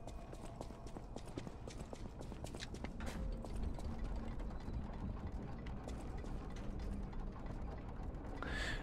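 Paternoster lift machinery running in Lies of P: a steady mechanical clatter of gears and ratcheting parts with a rhythmic clip-clop knocking, continuous and fairly close throughout.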